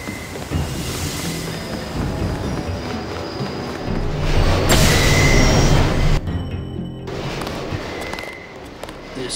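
A subway train ride in Deus Ex: a loud, continuous rumble of wheels on rails with rattling carriage noise and faint squeals, swelling midway then easing off.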